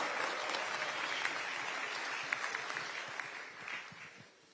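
Large audience applauding steadily at a political party gathering welcoming leadership to Gyeonggi Province, dense clapping throughout that tapers slightly at the end.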